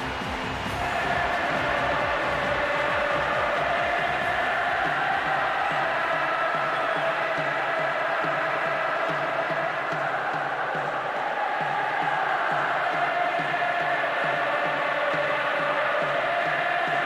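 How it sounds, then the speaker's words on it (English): Stadium crowd roaring at kickoff in the football game PES 6, a dense, sustained wash of cheering that holds steady and fairly loud throughout, with no talk. "Big roar from the crowd as the game gets underway."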